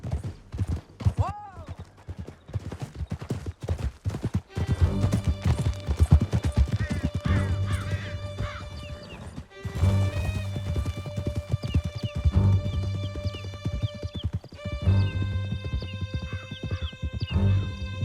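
Horse hooves clatter in a steady galloping clip-clop across a canyon in Red Dead Redemption 2, with a horse whinnying and voices talking over the ride.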